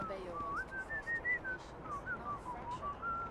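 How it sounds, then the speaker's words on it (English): A game character in Starfield whistles a wandering, tuneful melody, clear and close, over a soft low background hum. "I find your whistling offensive."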